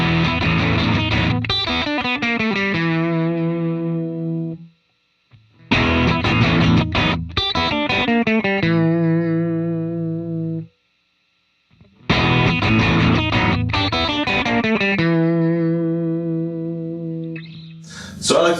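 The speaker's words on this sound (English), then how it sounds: "I'm going to show you these 3 settings of the sag switch with the distortion at 0." Electric guitar played through a Schroeder Amplification Blister Agent distortion pedal with the distortion at zero, cycling through sag switch settings: three loud strummed phrases with ringing chords and sustained harmonics, separated by short silences.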